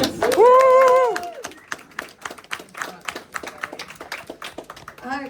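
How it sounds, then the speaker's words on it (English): A small crowd at an album-release Q&A at Unit 41 in Middlesbrough claps briefly after a voice speaks, with sparse, scattered handclaps rather than a full ovation, close and fairly loud. "Let's have a round of applause."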